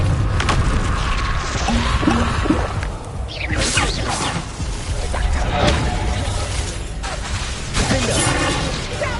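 Repeated blasts of the Confringo fire spell in Hogwarts Legacy, several booming hits and whooshes in quick succession, loud and dense, with spoken spell incantations layered over the action.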